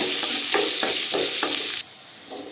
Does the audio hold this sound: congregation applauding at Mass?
no